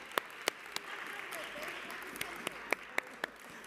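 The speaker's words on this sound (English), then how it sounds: "everybody please clap it up for Councilmember Justin Brannan" Scattered, sparse claps at a New York City Council meeting for a councilmember's birthday, a few distinct sharp hand claps over quiet room noise, fairly faint.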